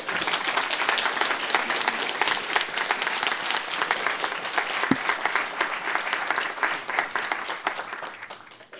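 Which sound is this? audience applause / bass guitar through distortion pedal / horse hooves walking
audience applause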